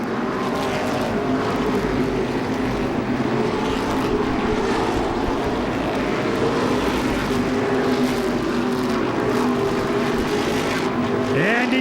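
Modified race cars roar continuously around the Seekonk oval track, engines droning loud and steady. A commentator talks over the noise.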